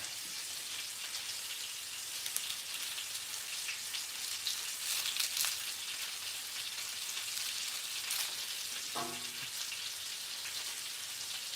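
Food sizzles and spatters steadily in a hot pan on a home stove, a constant close hiss lasting the whole stretch, with a brief clunk near the end and no talking.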